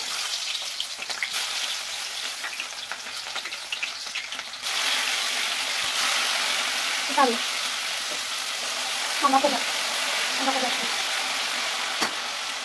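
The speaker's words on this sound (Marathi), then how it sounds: "तेल गरम झालेलं आहे. यानंतर यामध्ये कांदे टाकून घेऊ." Onions sizzle in hot oil in a home kitchen pan, a steady, crackling hiss that swells partway through, with a few soft scrapes of stirring on top.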